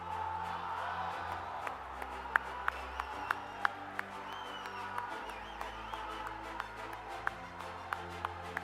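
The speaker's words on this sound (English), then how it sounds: "Warm round of applause, please, for Mohammed Al-Mazouki." Applause at a school graduation: a continuous patter of clapping from a crowd with sharper individual claps standing out, steady and fairly distant, with faint crowd murmur beneath.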